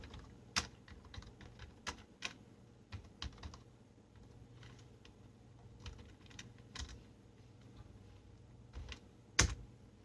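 Computer keyboard keys tapped in quick, irregular bursts while entering headings into an Excel payroll salary sheet, with a sharper clack near the end over a low steady hum.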